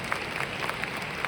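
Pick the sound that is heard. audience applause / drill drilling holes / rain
audience applause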